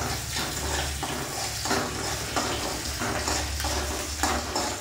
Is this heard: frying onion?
yes